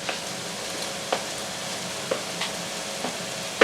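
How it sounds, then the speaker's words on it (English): Carrots going into a hot pan on high heat while cooking an oxtail ragu, giving a steady bright sizzle with a few light stirring clicks at regular intervals. "So then what we're going to do is we're now going to go in with our carrots"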